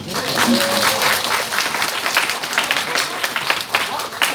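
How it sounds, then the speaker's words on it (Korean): An audience at a lecture claps in a dense burst of applause that stays fairly even and then tapers off slightly, with some voices mixed into the crowd. "네, 박수 한번 쳐주세요."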